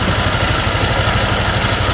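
A motorcycle engine idles steadily with an idling stop system being adjusted, a loud, close, continuous even rumble with fine rapid pulsing and no one talking.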